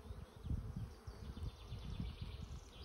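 Bees swarming around an opened hive during a spring inspection, a dense, steady low buzz with many overlapping wingbeats close by, continuous throughout with no talking.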